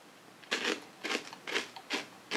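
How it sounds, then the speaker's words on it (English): Croutons from a McDonald's Caesar salad crunch in four distinct, close bites, each a short crisp burst spaced about half a second apart against a quiet background. "Let's try one of these croutons."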